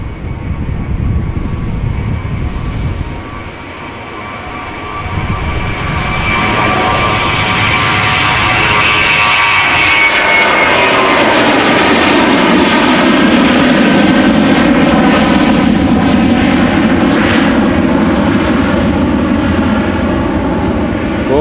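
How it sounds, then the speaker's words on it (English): Vueling Airbus A321 departing Amsterdam Schiphol for Barcelona, a loud close jet engine roar with whining tones that builds and sweeps as the aircraft passes and climbs away, sustained to the end. "Next up is another Vueling to Barcelona, flight 8301, A321, 7 years old, first flight March 2017."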